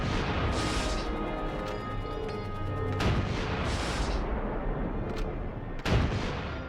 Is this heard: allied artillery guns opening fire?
yes